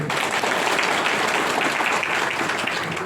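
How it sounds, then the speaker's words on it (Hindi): Dense, loud applause from a crowd at a motivational talk, an even, sustained roar of clapping with no gaps and a trace of voices mixed in. "तो एक जोरदार ताली होना चाहिए"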